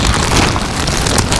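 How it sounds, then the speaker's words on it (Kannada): Heavy wind buffets a foggy, rainy hilltop peak near Sakleshpur, a loud, constant roaring rush that blasts the microphone without pause. "ಹೆವಿ ಗಾಳಿ, ನಿತ್ಕೊಳಕ್ಕೆ ಆಯ್ತಾ ಇಲ್ಲ ನೋಡ್ರಿ."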